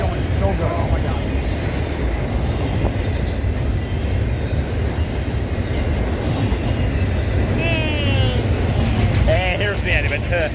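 A freight train rolls past at close range, a continuous loud rumble of wheels on rails with squealing wheel whines toward the end, while a person talks over the noise.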